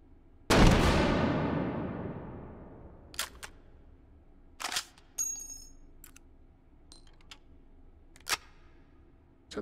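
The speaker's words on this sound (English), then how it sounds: "Let's do a little bit of one-handed shooting here." A single loud gunshot with a long decaying echo opens the sequence, followed by sparse sharp clicks and a few quieter shots, all from one-handed shooting in the VR game Hot Dogs, Horseshoes & Hand Grenades.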